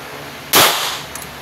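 A single sharp gunshot at an outdoor shooting range at Armscor in San Fernando, La Union, loud and close, with a brief decaying tail and a faint metallic clink just after.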